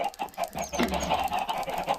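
Chickens on a Minecraft video game farm cluck in short, repeated bursts, close and moderately loud, with a busy, uneven rhythm.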